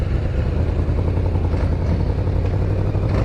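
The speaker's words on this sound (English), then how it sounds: "about to ride the Yamaha VMAX for the first time" Yamaha VMAX muscle motorcycle engine while riding, a loud, steady low rumbling drone with clattery texture and wind, close and continuous throughout.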